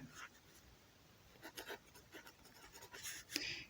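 Quiet scratching strokes of a math formula being written out, the area of a sector equal to one half r squared theta, coming in short irregular bursts against a low background hiss.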